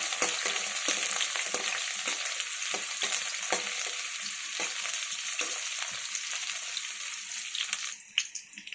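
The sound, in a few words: onions frying in a pan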